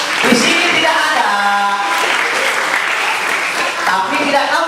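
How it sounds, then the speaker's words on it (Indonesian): An audience at a church holiday Bible school session claps steadily in a dense, continuous wash of applause, with voices and shouts mixed in throughout. "Tepuk tangan."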